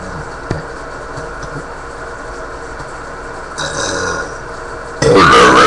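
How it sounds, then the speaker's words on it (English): A burp from a person at home rings out near the end, loud and close, after a steady stretch of low room noise, with a brief rough vocal sound just before it. "my burping woke her up"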